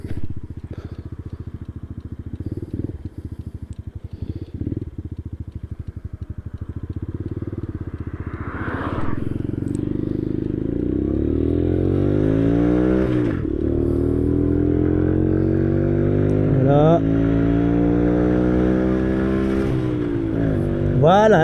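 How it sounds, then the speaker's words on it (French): Cars pass on a nearby road, engines swelling and fading as several vehicles go by close, with a voice talking at the start. "On va laisser passer les voitures."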